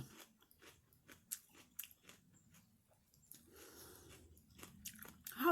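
Crisp bites and chewing of raw bitter melon dipped in shrimp paste chili sauce, close and intimate, with crunches and wet mouth sounds spread irregularly over several seconds and no talk.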